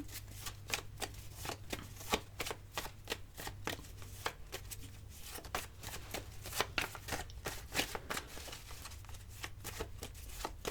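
Tarot cards are shuffled steadily for a reading, a rapid run of crisp riffling flutters repeating close and clear throughout, with a faint low hum underneath.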